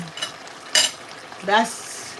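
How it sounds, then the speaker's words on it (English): Chicken adobo pieces, marinated in vinegar and soy sauce, sear in a hot pan with a sudden loud hiss that swells twice amid spoon stirring and clinks, brief and close. "So we put them in to sear them so the flavor can lock in."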